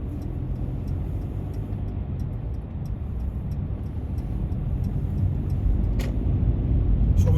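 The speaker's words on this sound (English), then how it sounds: "So we are driving onto Oldham Road at the moment." A car drives along Oldham Road in Chadderton, its steady engine and road rumble heard from inside the cabin, with a soft regular ticking like an indicator running throughout.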